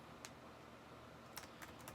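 Computer keyboard typing during a livestream, a few faint sparse key clicks close by, isolated taps with gaps between them.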